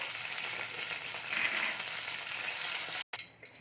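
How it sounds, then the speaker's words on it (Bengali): Oil heating in a kadai for tempering gives a steady, fairly loud broadband hiss and crackle that holds evenly, then cuts off abruptly near the end before a few softer spits return. "এখন এক চামচের মতো তেল দিয়ে দিচ্ছি তেলটা আমার গরম হচ্ছে"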